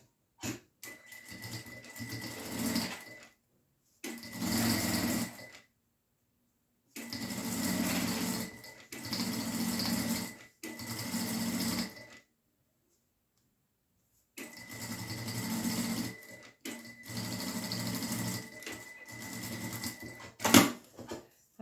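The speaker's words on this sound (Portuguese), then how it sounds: "Eu vou fazer uma costura aqui," Sewing machine stitching a fabric lining onto a triple pencil case: six close, loud bursts of fast mechanical whirring, each lasting a few seconds and separated by short silences, with a sharp knock near the end.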